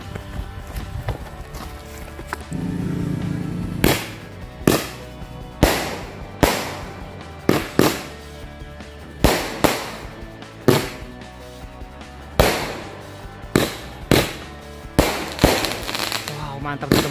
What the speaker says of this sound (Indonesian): Kita lihat perbandingannya dengan mercon Roman Candle ini.